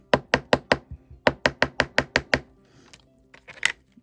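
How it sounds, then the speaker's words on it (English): A small chisel on a squishy dig kit block gives a quick series of about eleven sharp, close knocks in two bursts, then a few softer scrapes and taps. "We'll try a little chisel action."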